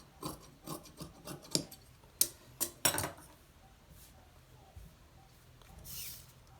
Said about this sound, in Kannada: ಇದು 15 ಇಂಚಿಗೆ ಬಿಟ್ಟು ಕಟ್ ಮಾಡ್ತಾ ಇದ್ದೀನಿ ನೀಟಾಗಿ